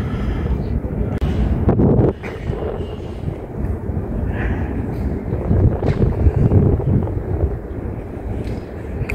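Cold pre-dawn wind at about 14°C gusts across a rooftop during an early Ramadan Umrah trip, a steady broadband rush with buffeting against the microphone and a faint voice in the background.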